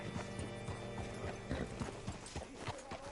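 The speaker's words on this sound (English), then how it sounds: "Hitch your horse up here." Horse hooves in Red Dead Redemption 2 clip-clop at a steady walking rhythm, with faint creaks of tack and gear alongside. The sound is soft and close, with no talk over it.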